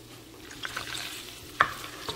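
Pork rib meat browning in a pan, a soft low sizzle with a few faint stirring scrapes and one sharper clink, quiet and close.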